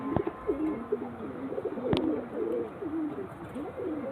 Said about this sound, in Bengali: পায়রা দেখুন এটা চেন্নাই ব্রিড আছে